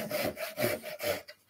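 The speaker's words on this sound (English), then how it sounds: "We dropped in the groove, we've got very little chance of catching the saw blade." A hand saw cuts a wooden halving joint in a steady back-and-forth rhythm, about four close, raspy strokes that end in a quieter pause.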